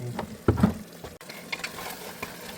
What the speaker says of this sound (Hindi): अब हमारे सारे मसाले जो है चिकन के साथ भुनेंगे अच्छे से